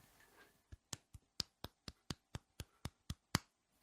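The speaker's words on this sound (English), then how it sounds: "Bitch-ass golf clapping" Soft, sparse golf clapping: about eleven single, evenly spaced hand claps, close and isolated, following a brief murmur of voices at the start.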